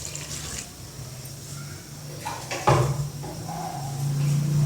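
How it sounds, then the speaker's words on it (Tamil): Water runs and splashes into a pot of multi-vegetable sambar with tomatoes, with a louder pour rising near the middle and continuing steadily to the end. "தண்ணி சேர்த்துடலாம்."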